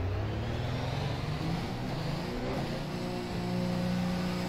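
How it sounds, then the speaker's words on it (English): A Formula race car with a V6 hybrid engine in a sim racing game drives out at Bahrain, with a steady engine tone that rises and shifts as it accelerates, heard on its own. "so we take out the car for just one flying lap"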